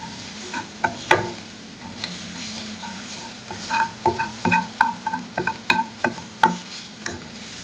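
A chicken mixture for momos sizzles quietly in a pan while a utensil scrapes and taps against it in irregular clusters, close by.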